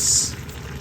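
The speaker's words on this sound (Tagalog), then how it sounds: "Ayan, kumukulo na." Pork broth boiling in a cooking pot, a short close bubbling and hissing burst that fades quickly into a low steady simmer, with no talking.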